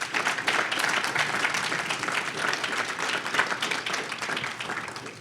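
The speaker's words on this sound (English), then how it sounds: "give them a round of applause again" An audience at an awards dinner applauds for about five seconds, a dense, even clapping that stays steady and moderately loud throughout.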